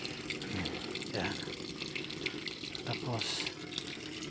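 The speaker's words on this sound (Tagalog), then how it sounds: "lagyan ko siyang gripo" Water runs from a tap in a steady, faint stream, with a few soft knocks and voices talking quietly over it.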